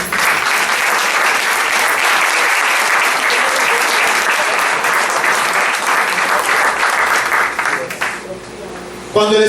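A church congregation applauds during a Spanish-language sermon, loud sustained clapping filling the room for several seconds before tapering off near the end.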